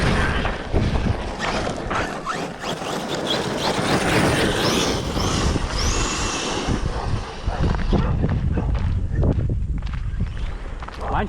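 Two RC trucks, an Arrma Kraton and a Traxxas X-Maxx, being driven outdoors, giving a loud, continuous whine of electric motors and tyres over a dense, rumbling wash of sound that shifts slightly toward the end.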